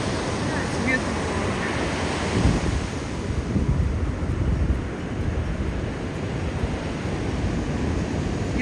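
Ocean surf on Jaco beach in Costa Rica rumbles in a steady broadband wash, with gusts of wind buffeting the microphone throughout; no talk is heard.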